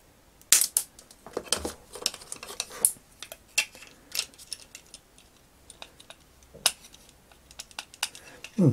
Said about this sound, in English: Let's cut the other one off.